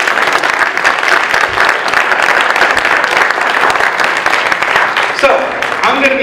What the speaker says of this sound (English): Please, just a round of applause for these people as well.